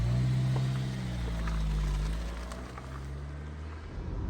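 A Vauxhall Cavalier MK2 with a five-speed gearbox on the move, its engine a steady low drone with a gentle rise and fall in pitch, heard from inside the car at moderate volume with no talk.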